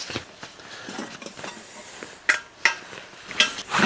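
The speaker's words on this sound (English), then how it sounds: "Pot for the fire." A camping cooking pot meant for the fire is handled, with scattered metallic clanks and scrapes and a few sharper knocks near the end, close and moderately loud with no talking.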